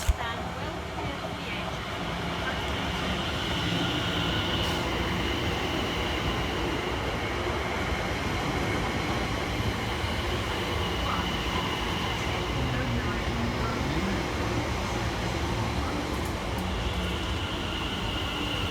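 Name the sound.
Greater Anglia Class 745 and London Overground Class 710 trains passing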